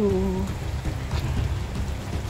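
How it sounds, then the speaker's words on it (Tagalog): Steady rain hisses and patters continuously close by, with a brief voice at the very start. "Umuulan, no?"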